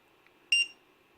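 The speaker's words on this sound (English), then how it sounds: "You get a beep every time you click it." One short, high electronic beep from an LED buzzer module on a multirotor, faint but distinct, over a quiet background hum.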